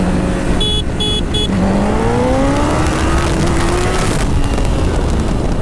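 A Honda Grom minibike is held at full throttle on a motocross track, a loud, continuous engine whine rising in pitch, with a brief rhythmic clatter near the start.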